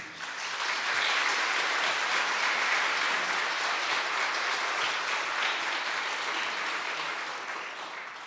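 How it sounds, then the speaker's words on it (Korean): A church congregation at a Holy Week early-morning prayer service applauds to welcome the pastor, with steady, dense clapping that swells quickly and holds loud and even throughout before tapering slightly at the end. "우리 박수로 환영하겠습니다"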